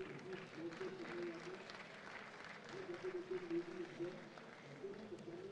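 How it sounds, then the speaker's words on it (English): Applause from a crowd at a League of Legends esports trophy presentation, a steady wash of clapping with a voice talking over it throughout. "Big round of applause, please."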